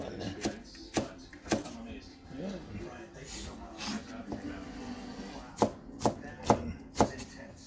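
A knife chops ginger on a board for pesang dalag, sharp irregular taps spaced out then quickening into a run of firm strikes near the end, while someone talks quietly between cuts.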